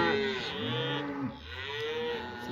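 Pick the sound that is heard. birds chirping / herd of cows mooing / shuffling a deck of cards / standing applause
herd of cows mooing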